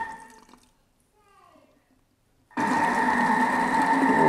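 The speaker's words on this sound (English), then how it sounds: "let's add the water little by little in the dough" Water poured little by little into pizza dough in a Thermomix, a soft trickle at first, then after a pause a loud steady rush of liquid running alongside the machine's hum until the end.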